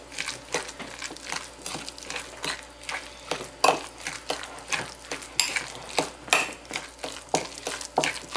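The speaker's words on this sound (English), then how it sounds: "you're gonna take all those ingredients and mix them up" A fork works through guacamole ingredients in a bowl, making repeated squelchy scraping strokes in a steady rhythm, close and fairly loud, with no voices.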